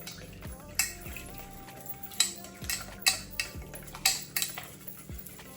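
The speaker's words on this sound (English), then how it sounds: "you take that mixture and you mix that right on up" A spoon scrapes and clinks against a bowl while stirring a mixture in a home kitchen, with about half a dozen sharp taps at an uneven pace, close and moderately loud.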